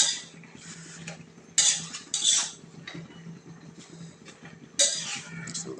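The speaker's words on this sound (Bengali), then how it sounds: "শাকগুলা দিয়ে হালকা একটু নাড়াচাড়া করলো" Spinach leaves being stirred in a cooking pan with prawns, with repeated close scraping and clinking of a utensil against the pan over a steady low hum, and a few louder scrapes.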